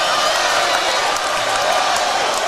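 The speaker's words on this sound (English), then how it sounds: "Listen to this crowd." A high school basketball crowd in the gym during the Huntington vs John Curtis Christian game, a dense, loud wash of cheering and applause with scattered whoops, steady throughout.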